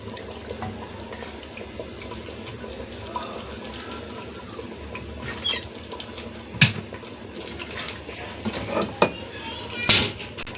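Water from a glass poured into a pot of browned mutton on the stove for mutton kunna, a low splashing wash under kitchen background noise, with sharp clinks of the pot and utensils toward the end.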